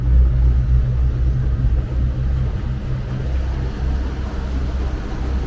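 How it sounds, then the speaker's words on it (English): Twin 2023 Suzuki 115 outboard motors idle in gear on a 2011 Stabicraft 2250 Supercab boat, producing a steady, loud, low rumbling drone close by with water noise and no talking. "Both motors are running there."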